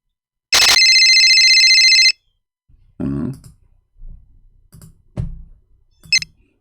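A telephone rings once and goes unanswered: a loud, shrill electronic ring lasts about a second and a half and then stops, followed by scattered short bumps, clicks and handling noises.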